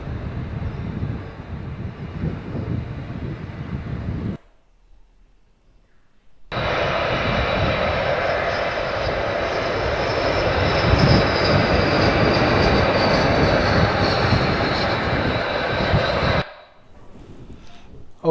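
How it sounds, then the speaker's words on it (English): Airbus A380 engines roaring loudly and steadily, a broad jet drone that drops out briefly midway and then returns even stronger, with a faint rising whine on top before fading near the end. "Look at how big it is, Airbus 380."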